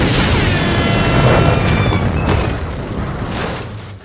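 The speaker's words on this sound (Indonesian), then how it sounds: "Aksinya kali ini yaitu dengan ledakan dari tabung gas yang kuat." A powerful gas cylinder blast in an action film, a loud boom with rumbling roar and debris noise that slowly fades over about four seconds, with no talk.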